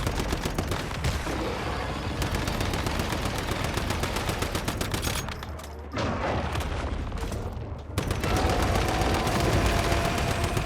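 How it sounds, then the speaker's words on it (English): Enemy gunfire in the Once Human video game during a boss fight: a dense, continuous barrage of rapid shots that runs for the whole stretch, briefly thinning in the middle before surging back loud and close. "That's shooting, that's shooting."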